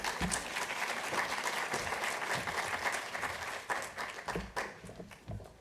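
Audience applause fills the room after Dr. Kate Thompson is introduced at an opening event, a steady wash of many hands clapping that thins and grows patchier toward the end.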